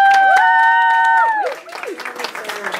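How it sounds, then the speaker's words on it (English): A class celebrating their Teacher of the Year opens with a loud, sustained whooping cheer, then breaks into scattered close clapping and excited voices. "Can we get a round of applause?"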